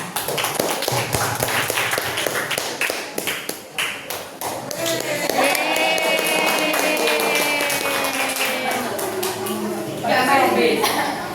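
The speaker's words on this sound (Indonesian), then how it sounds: "tepuk tangan." A classroom group claps hands, scattered sharp taps building into a sustained round of clapping, close and fairly loud, with voices and chatter mixed in throughout.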